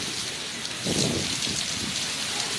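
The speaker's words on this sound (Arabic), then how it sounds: "برد كبير، يعني كل حبه قد الحجره" Large hailstones pound down in a violent storm in Beirut, Lebanon, making a loud, dense, continuous clatter with a heavier surge of impacts partway through and no voices.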